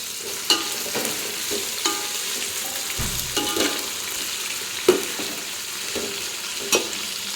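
Beans and potatoes fry with onion in a pan for vegetable palav, a steady close sizzle broken by several sharp clinks and scrapes of stirring through the clip.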